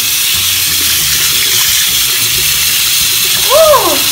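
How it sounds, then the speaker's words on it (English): Hot water gushes steadily from a tap into a sink, a close, continuous splashing rush, with a child's toy squeaking briefly near the end. "Open hot water, Masha."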